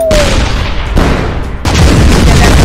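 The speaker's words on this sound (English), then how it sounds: "Alright, I'm gonna shoot a python." A python weapon fires in a tank video game, producing loud, dense booming blasts that roar continuously, with a sharp new burst partway through, close and overwhelming.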